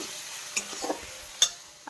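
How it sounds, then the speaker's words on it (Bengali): Finely chopped onion fries gently in a pan with cardamom, cinnamon, cloves and dried chilli, a soft low sizzle broken by a few light stirring clicks and scrapes. "মিহি করে কুচোনো একটা পেঁয়াজ হালকা ভাজা ভাজা করে নিলাম।"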